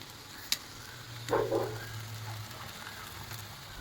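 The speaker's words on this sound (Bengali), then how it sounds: "ডিম ভাজছো?" Eggs frying in a pan greased with ghee give a quiet, close, fizzing crackle that runs throughout. A sharp clink lands early and a brief louder stir follows.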